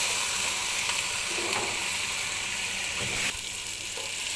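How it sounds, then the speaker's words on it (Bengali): Ground spices, nut paste and tomato sauce fry in a pan for chicken korma, producing a dense, steady sizzle with faint stirring, close and even, dropping slightly in level near the end. No one speaks. "দেখুন, আমার ভাজা হয়ে গেছে সবগুলো মশলা।"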